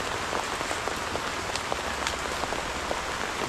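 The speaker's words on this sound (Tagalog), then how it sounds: "Walang tigil ang ulan." Steady rain falling on a surface during a corn harvest, a dense continuous patter with scattered sharper drop hits, moderately loud and unbroken throughout with no voices.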